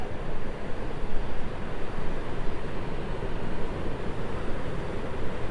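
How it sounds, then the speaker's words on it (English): Steady, loud broadband roar of wind buffeting outdoors by a harbour with boats, rushing continuously without pause, with no voices. "it is a windy day here"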